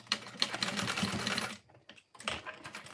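A sewing machine stitches two parallel reinforcement lines across earlier topstitching on a fold-over bag, a fast whirring run that stops briefly, then starts again, close and fairly quiet.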